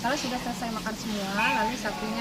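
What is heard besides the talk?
No distinct noise like a dog, phone or traffic.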